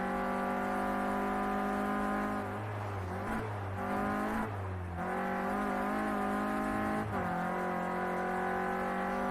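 A Renault Clio Cup race car laps Oulton Park, its engine a loud, sustained high-revving drone with rich harmonics, dipping and rising through gear changes and braking for corners across the run.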